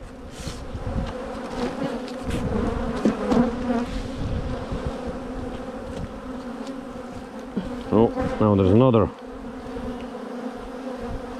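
Honey bees buzz in a dense, steady drone around an open hive during swarm-prevention work, rising to a louder close pass near the end, with a person briefly speaking.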